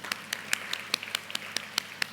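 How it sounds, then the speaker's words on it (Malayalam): Children at a yoga camp clap in a slow, spaced rhythm, about ten distinct hand claps at moderate volume with quiet room tone between them. "അതിനുവേണ്ടി എല്ലാവരും ഒന്ന് കൈയടിച്ചേ"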